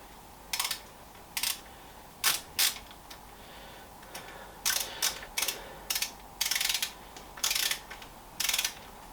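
Bolts on a bicycle handlebar stem are tightened with a ratchet wrench. Quiet, close, repeated clicking strokes come in short bursts with pauses between them, and no one speaks.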